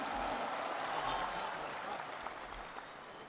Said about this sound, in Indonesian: Kita berikan tepuk tangan untuk itu.